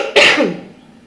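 A single sharp, close cough bursts out, then fades into a short rasping tail with no talking.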